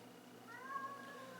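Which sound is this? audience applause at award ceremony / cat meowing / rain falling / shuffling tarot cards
cat meowing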